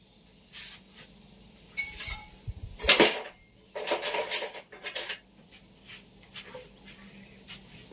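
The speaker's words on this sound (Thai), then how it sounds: "บดกล้วยน้ำว้า" A fork scrapes and clinks against a bowl in short, irregular bursts while mashing soft Nam Wa bananas, heard up close with quiet pauses between strokes.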